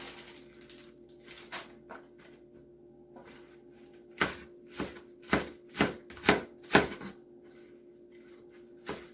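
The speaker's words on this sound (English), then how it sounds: "1 more stalk is all we're going to cut up, and then we'll be all finished" A knife chops through a Napa cabbage stalk for a chicken vegetable stir fry: a few faint cuts, then a run of about six loud, sharp chops on the board in close succession.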